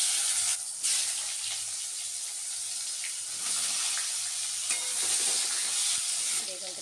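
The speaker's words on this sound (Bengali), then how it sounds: "আর এই ইলিশ মাছ ভাজা তেলের মধ্যে আমি এখন বেগুন ভেজে নেব।" Eggplant frying in oil left over from frying hilsa fish, a steady close sizzle and hiss with occasional stirring scrapes running throughout.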